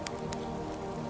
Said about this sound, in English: The sound of the rain mingles with the quiet lap of the waves